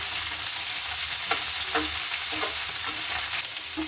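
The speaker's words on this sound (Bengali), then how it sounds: "হালকা করে নাড়াচাড়া করে নেব এটাকে দু এক মিনিট ভেজে নিতে হবে ভালো করে" Cauliflower stalks fry in a pan with a dense, steady sizzle and hiss. Soft, irregular stirring scrapes sound up close beneath it.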